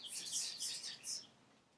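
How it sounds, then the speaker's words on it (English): Small bird chirping outdoors, three faint high tweets in quick succession at a distance. "I don't know if y'all can hear that bird chirping."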